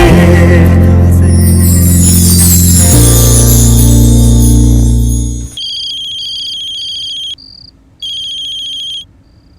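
Electronic telephone ringtone of repeated high beeping pulses in a few bursts with short gaps, entering right after a loud stretch of music, with no talking.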